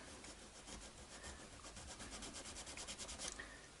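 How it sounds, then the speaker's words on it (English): Sandpaper rubs sideways in the nut slot of a Fender American Elite Stratocaster during setup, a faint, close, rhythmic scratching that grows into quicker strokes near the end. "I'm going to go back to that nut, that slot, and I'm going to use my sandpaper"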